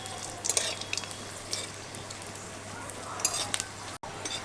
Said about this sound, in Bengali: শুকনো লঙ্কাগুলো তেলের মধ্যে খুব ভালোভাবে ভেজে নেব।